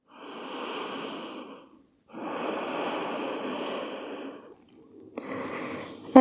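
Slow, deep breaths during yoga meditation: a long airy inhale, a pause, then a longer exhale, close and moderately loud, with a final breath starting near the end.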